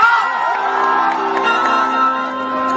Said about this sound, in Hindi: जोरदार को ताली हो जाए।